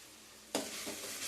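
Sliced green chillies dropped into hot oil for a ridge gourd upma tempering start sizzling with a sudden loud burst, followed by a steady crackling fry and a brief second flare.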